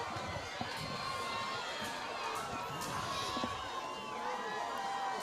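A crowd in the stands at a Wichita Northwest vs Wichita East varsity football game cheers and shouts continuously at a distance, a dense roar with children's voices rising above it.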